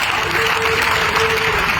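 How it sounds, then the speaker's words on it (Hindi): A short burst of dense audience clapping at a gathering in a monastery, loud and close, running steadily for under two seconds. "इसके लिए मैं कहूंगा एक बार तालियां बजा करें"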